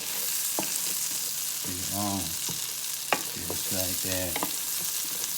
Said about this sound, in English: I'm gonna just stir these onions up just like this